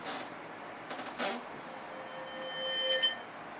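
A soul bell's ring played backwards, creating a swelling, rising metallic tone: a few quiet bursts early on, then a reversed shimmer building to an abrupt cutoff near the end, faint and alone.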